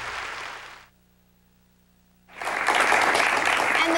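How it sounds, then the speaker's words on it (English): Volunteers from Rockwell applaud at a televised public-broadcasting pledge drive: loud, dense clapping that breaks off into near silence for over a second, then surges back strong and sustained. "Those wonderful people applauding right now are our terrific volunteers from Rockwell"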